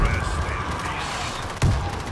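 Gunfire in the zombie shooter World War Z, a steady rattling barrage with one heavier blast near the end, mixed with shouting voices.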